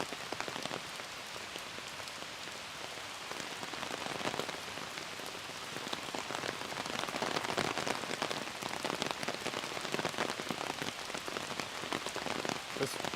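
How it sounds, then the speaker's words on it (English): Heavy, steady rain pours down outdoors at Horse Guards Parade in London, a dense continuous hiss of drops hitting surfaces that swells slightly and holds for the whole stretch, with no voices. "it's properly raining now"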